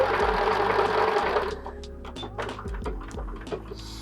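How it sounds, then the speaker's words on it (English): A sewing machine runs fast while stitching a cushion cover, a close, loud rattling whir that stops partway, followed by soft clicks and fabric handling. "I like to try and do continuous sewing where I can."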